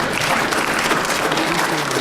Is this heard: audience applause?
yes